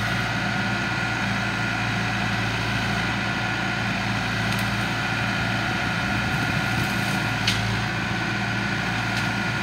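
A backhoe's engine runs at a steady, loud drone while its arm lifts a tractor off the ground, a constant low rumble with no changes in pitch and a few faint higher clanks on top.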